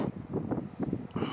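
Strong wind at Col de la Bonette in the French Alps buffets the microphone in rough, uneven low gusts for a moment, moderately loud and with no other sound standing out.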